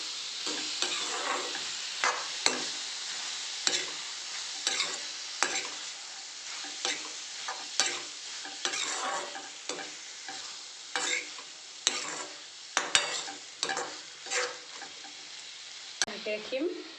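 Mushrooms and half-cooked potatoes frying in a pan are stirred in a repeated scraping rhythm over a constant bright sizzle, heard up close.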